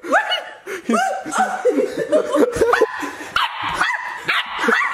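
A puppy barks and yaps in short repeated bursts close by, mixed with people laughing and chattering throughout.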